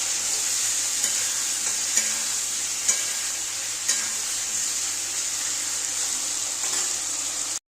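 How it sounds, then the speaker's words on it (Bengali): Spice paste of cumin, ginger paste and dried chili powder for a Bengali katla fish curry, frying and sizzling steadily in a pan, with soft periodic scrapes of stirring about once a second. "এবার আমি ভালো করে একটু কষিয়ে নেব।"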